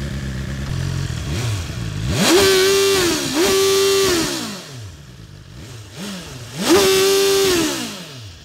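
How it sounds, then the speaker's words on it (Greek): A BMW S1000XR motorcycle's exhaust revs up close and loud, three sharp throttle blips climbing to a held high pitch before dropping back to a rumbling idle between them. "Θα να ακούσουμε και λίγο τον ήχο από την εξάτμιση."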